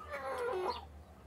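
Backyard chickens cluck softly while pecking at discarded kale leaves in a garden coop, a short run of murmuring hen calls close by, no talking.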